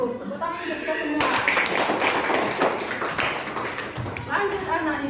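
A classroom of students bursts into a few seconds of lively, close applause, framed by a teacher's voice speaking before and after.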